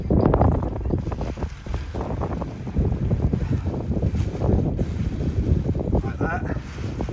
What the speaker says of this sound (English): It's got very windy now.